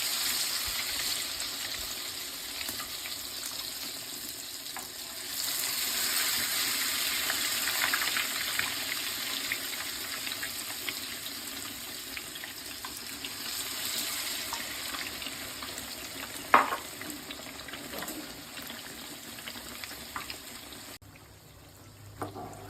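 Battered egg-and-bread chops dropped into hot oil, a steady close sizzle and bubbling of frying that runs continuously with a few sharper pops, no talking.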